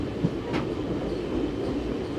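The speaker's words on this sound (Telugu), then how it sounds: "ట్రైన్ అయితే ఇంకా స్లోగా తీసుకెళ్తున్నారు వరంగల్ అవుట్స్కట్స్ నుంచి వరంగల్ స్టేషన్లోకి." Satavahana Superfast Intercity Express rolling slowly through the outskirts into Warangal station, a steady low rumble of wheels on rails with faint clatter, heard from inside the train and uninterrupted by voices.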